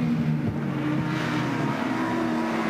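Race cars, including a BMW and an Eggenberger Texaco RS500 Cosworth Sierra, climb Mount Panorama at Bathurst. Their engines make a continuous loud roar that rises a little in pitch as they pass, with no voices over it.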